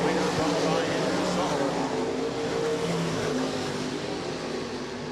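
305 sprint cars racing in a heat at Rapid Speedway, a steady dense engine roar from the field filling the air continuously, loud and unbroken, with a commentator's voice faintly underneath.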